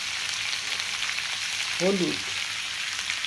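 A steady, close sizzle of frying with salt, sugar and turmeric added runs throughout, and a brief spoken word cuts through it midway.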